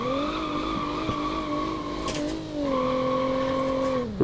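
Fiat Tipo fitted with a 2.7-litre V6 engine driving in the BeamNG.drive game, a steady engine drone with clear harmonics that dips briefly mid-way and then pulls back up.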